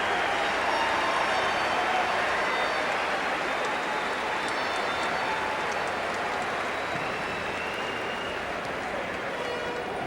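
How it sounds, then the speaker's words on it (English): A hockey arena crowd in Dallas applauds politely during the Stanley Cup presentation, a steady distant roar of clapping and crowd noise that fades slightly over time. "A polite crowd with polite applause"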